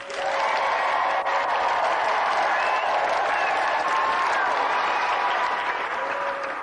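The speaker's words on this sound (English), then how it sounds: "let's have a final round of applause for two brilliant competitors, Jason Pickford and Tristan Grove." Dense, steady audience applause at the close of a competition show, loud and continuous throughout with no pauses.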